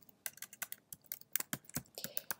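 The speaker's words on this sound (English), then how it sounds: "So I'm typing in myperfectcompany.com." Fingers type a domain name on a computer keyboard, a quick irregular run of sharp, close key clicks with brief pauses, quiet room otherwise and no voices.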